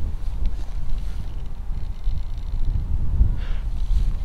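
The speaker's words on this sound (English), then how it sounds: "the wind's died down a fair bit now" Steady outdoor wind rushing and buffeting the microphone during a field test of a digital anemometer, a continuous low roar with gusty swells and no talking.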